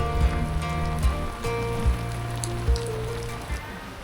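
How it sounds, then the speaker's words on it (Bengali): Heavy monsoon rain pours outside at Belai Bil wetland near Dhaka, a steady patter with recurring thumps and a droning engine hum running underneath. "বাইরে মুষলধারে বৃষ্টি হচ্ছে"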